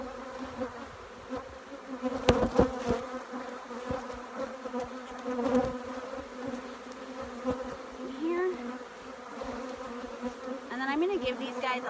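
Honey bees buzz around an open hive during an apiary inspection, making a dense, steady drone close by, with some knocks and handling thumps and occasional brief tonal sounds.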